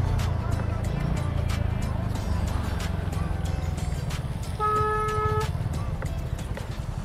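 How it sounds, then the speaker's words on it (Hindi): Road traffic rumbles close by with engines running steadily, and a single car horn sounds briefly partway through. "ओहो भाई ट्रैफिक देख रहे हो?"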